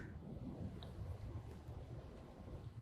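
Thunderstorm ambience in a video game: a steady, low broadband rumble of storm noise that runs faint and continuous throughout, with no voices.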